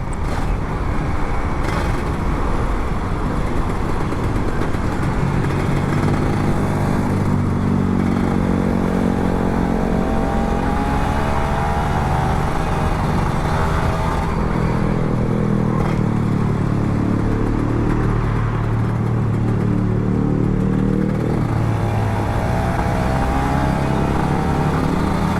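A Kawasaki Ninja RR 150 two-stroke motorcycle runs continuously while being ridden, a loud, steady engine drone with shifting revs under heavy wind rush, close and unbroken throughout.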